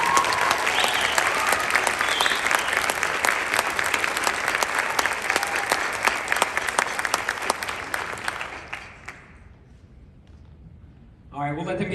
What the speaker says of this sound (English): Let's have another round of applause for all these seniors.